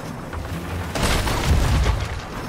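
Cannon fire striking a ship in the ScuttleBuds underwater adventure game: a deep booming impact swells after a quieter start, followed by a rumbling crash and a sustained low roar.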